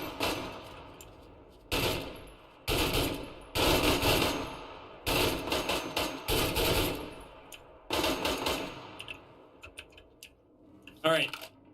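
Fully automatic rifles fire in repeated long, loud bursts during the DeadMatter survival game, each rapid volley separated by short pauses, with someone talking between and over the shooting.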